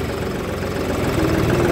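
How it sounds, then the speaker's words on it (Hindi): A John Deere 5310 GearPro 55 HP tractor engine pulling in third gear through farm soil, a steady, close diesel drone with an even, slightly rising throb and no talking. "ये 3 नंबर गियर के अंदर भी ट्रैक्टर उठ गया है"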